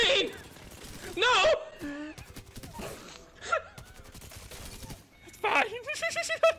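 Gunfire from the battle-royale video game Apex Legends comes as rapid bursts and crackling shots, mixed with game effects and excited players talking over the action.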